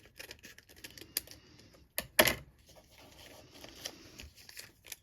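Paper being cut for a junk journal template, with a few crisp close snips and a loud crunchy cut in the middle, plus soft rustling of paper around it.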